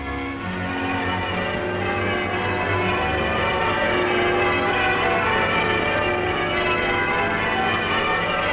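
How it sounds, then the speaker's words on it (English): Many church bells of Westminster Abbey ring together in a dense, continuous peal at a coronation, steady and full throughout with no talking. "Church bells. Is that Westminster Abbey?"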